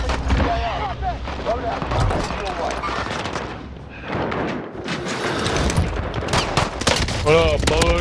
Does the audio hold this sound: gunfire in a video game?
yes